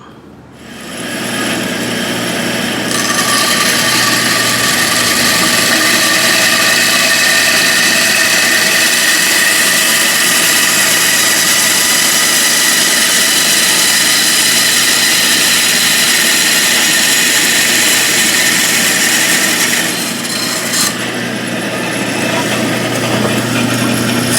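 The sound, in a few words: bandsaw cutting wood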